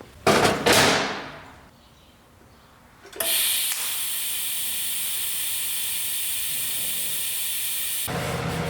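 A beginner welding a metal piece with a welding gun, an opening burst of harsh crackle that fades, a quiet gap, then a long steady loud hiss and sizzle before an abrupt stop.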